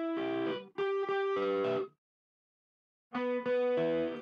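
Dry electric guitar through an amplifier, without delay, plays a short phrase of distorted plucked notes that cut off cleanly into silence before a second phrase begins.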